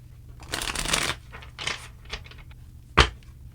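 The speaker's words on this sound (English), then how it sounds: "3 more shuffles and let's begin." A deck of tarot cards is shuffled close up in several quick riffling bursts, followed by a single sharp tap as the deck is squared, with no voices present.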